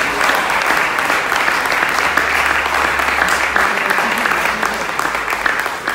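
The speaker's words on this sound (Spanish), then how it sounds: "Un aplauso fuerte para el Señor Jesús" Congregation applauding loudly during a Spanish-language church service, a dense, steady wash of many hands clapping throughout, with a voice faintly audible beneath.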